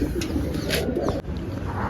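Pigeons coo in a loft, a steady low murmur of overlapping coos that fills the whole stretch at close range, with no voices.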